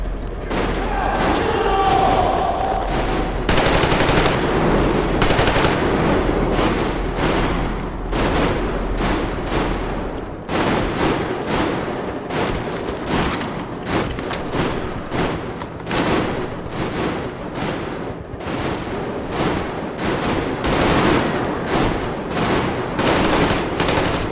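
Sustained covering gunfire in Metro Exodus, loud rapid rifle and machine-gun bursts rattle on continuously with explosive booms and shouted orders mixed in.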